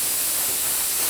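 Steady, loud hiss of steam venting from a pressure cooker whistle over high flame while chicken biryani cooks, continuous and close with no breaks.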